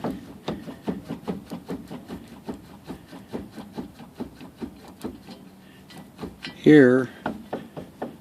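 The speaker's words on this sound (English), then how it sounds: "As I rotate it, I'm getting a clunking noise" Chevrolet Tahoe differential part clunking as it is turned by hand, a series of regular close knocks repeating about twice a second, with a brief spoken word near the end.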